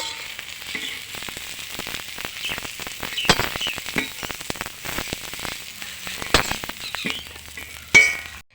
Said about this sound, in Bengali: তো আমার এই বাঁধাকপিটা হয়ে গেছে, এখন আমি এটাকে তুলে ফেলবো